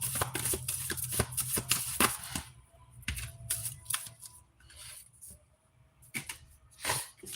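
Tarot cards being shuffled up close during a live reading, with rapid riffling bursts and flicks, brief pauses, then more shuffling, and no voices.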